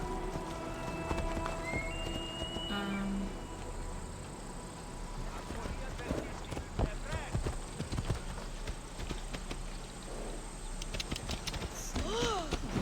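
Horse hooves clip-clop at a steady run in Assassin's Creed Odyssey, with whinnies near the end, under someone talking over game music.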